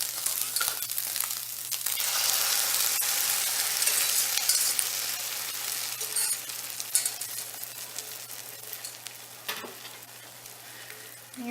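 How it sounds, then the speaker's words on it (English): Steady loud sizzling of eggs and sausage frying in a pan, with occasional scraping and stirring clicks throughout. "We're going to add our egg."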